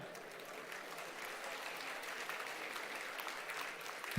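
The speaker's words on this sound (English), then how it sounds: "kindly clap." Steady, fairly quiet clapping from an audience at the inaugural session of an AIBEA bank employees' conference, a continuous even patter lasting a few seconds with no voices over it.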